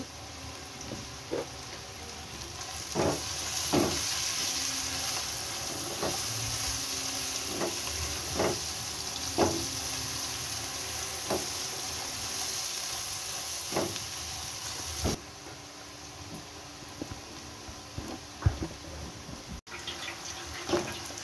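Beef brains frying in spiced oil with onion in a pan. A steady sizzle carries on throughout, with regular soft knocks and stirring clatter; no one speaks.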